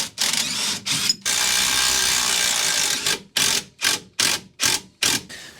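Anti-roll bar bushes come off an MK2 Escort under a ratchet: a long continuous run of clicking followed by five short, evenly spaced ratcheting bursts, close and loud.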